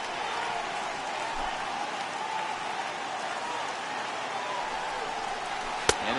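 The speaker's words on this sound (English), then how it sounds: "It's raining cats and dogs out there." Steady hiss of heavy rain falling over a baseball video game, a dense even wash with a brief sharp knock near the end and no voices.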